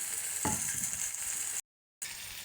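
Jackfruit seeds and ginger frying in a pan with a steady, soft sizzle and a brief stirring scrape, cut by a short silent gap before the sizzle resumes.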